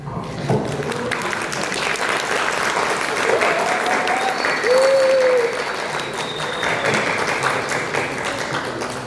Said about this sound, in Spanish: Vamos a darle un aplauso a María.